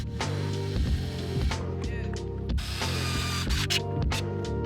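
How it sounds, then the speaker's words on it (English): Small screws being driven and fastened while RPM parts are mounted on a Traxxas Slash RC car, giving close, busy mechanical clicking and ratcheting with a steady low hum underneath, alone without talk. "Now I guess it's time to mount them with the bigger screws."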